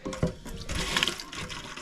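At a hunting camp in Maine, water rushes and splashes from the plumbing after the bypass is turned on: a short, close burst of running water with no voices.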